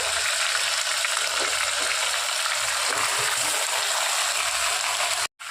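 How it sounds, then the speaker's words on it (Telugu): Tomato and chicken frying in a pan for chicken biryani, a dense continuous sizzling hiss with faint stirring, loud and close, cutting out briefly near the end, no talk. "ఫస్ట్ టమాటో పండు వేస్తున్నాను, తర్వాత చికెన్ వేస్తున్నానండి"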